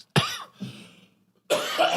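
A person coughs close to the microphone: a sharp cough, a softer second one, then a louder rough burst after a short pause. The coughs come in a quiet indoor setting.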